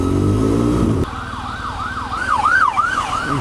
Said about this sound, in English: Jeez, 2 ambulances.